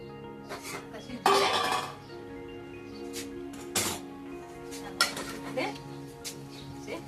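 A metal lid clanks onto a cooking pot of boiled mahua flowers on a gas stove, one loud clatter followed by a few lighter clinks and knocks over a steady low hum.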